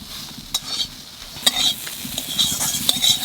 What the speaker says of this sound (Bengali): চাল কুমড়ো পাতার বড়া বানানোর জন্য একটু বেসন আর চালের গুঁড়ি একসাথে মাখিয়ে নেব